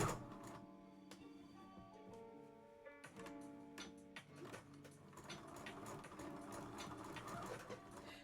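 A sewing machine edge stitching a kid's dress, its fast even mechanical chatter running steadily and close up, with brief pauses and restarts of the needle.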